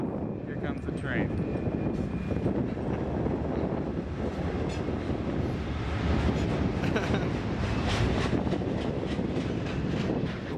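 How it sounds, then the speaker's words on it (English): A train rolls past at close range, a loud continuous rumble of wheels and carriages holding steady for about ten seconds with faint squeals near the start. "here comes the train."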